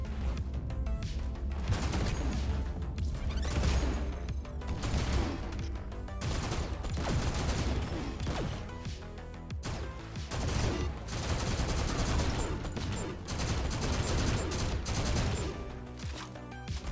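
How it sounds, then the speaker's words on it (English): Sustained automatic fire from an assault rifle in the shooter GTTOD: Get To The Orange Door, loud rapid bursts running almost without pause over a heavy low rumble, with no talking. "Let's go and use the assault rifle for a little bit"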